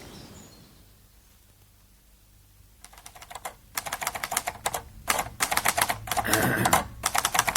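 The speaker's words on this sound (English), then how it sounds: "He's upstairs typing." A typewriter clatters into fast bursts of keystrokes after a quiet start, its crisp taps coming in rapid runs with brief pauses, heard up close in an upstairs workroom.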